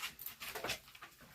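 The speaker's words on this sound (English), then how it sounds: "We're gonna have dog fights out here again." Dogs named Grizzy and Dexter scuffling outdoors, with a brief burst of whining, whimpering yelps that is short and fairly faint.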